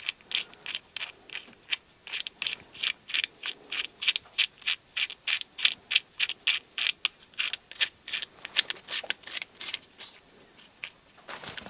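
A Biltema hand tool with a ratcheting mechanism drives a bolt in, giving a steady run of sharp rhythmic clicks, close and fairly loud, with no talk.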